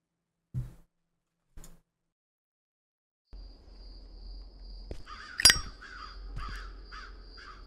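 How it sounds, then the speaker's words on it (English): A crow in the horror game The Telephone caws several times in a row, harsh and fairly close, over a low ambient drone, after two isolated soft thuds earlier in the silence. "Oh no, it's the crow."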